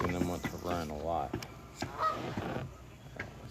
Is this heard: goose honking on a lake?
yes